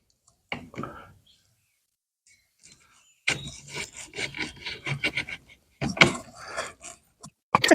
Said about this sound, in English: Large 3 Phillips screwdriver.